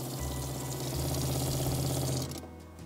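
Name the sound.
water running from a tap in a converted VW van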